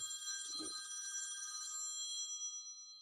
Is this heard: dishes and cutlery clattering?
no